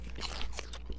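Crunchy, wet chewing and biting sounds from eating intestines in a video game, a quick cluster of close bites over about a second.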